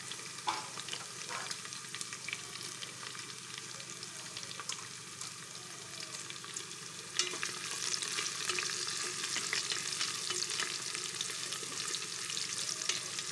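Small-cut deseeded chillies fry with garlic in a pan, giving a constant crackling sizzle with occasional stirring clicks that grows noticeably louder about halfway through, without speech.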